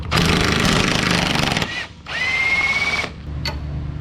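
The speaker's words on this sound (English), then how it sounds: "Let's get these two inner bolts out of here, Cheryl." A power tool whirs loudly in two long bursts, removing the inner control arm bolts on a Volkswagen, with a brief pause between and a short tail at the end.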